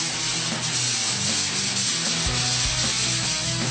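Abrasive sanding of denim jeans with a hard grinding abrasive, a continuous dense rough hiss and rasp, close and steady throughout with no talking.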